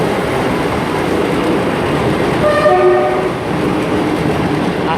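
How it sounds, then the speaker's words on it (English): A Northern Trains class 158 diesel unit departs Nottingham for Leeds with a loud, steady engine roar and rail rumble, and a short two-tone horn sounds midway, close by and with no talk. "departing out now is a Northern train service to Leeds, the 1517 service"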